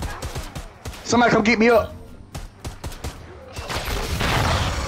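Gunfire in the video game Predator: Hunting Grounds, a brief burst of rapid shots fired through a wall, loud and close, mixed with a player's excited voice talking over the action.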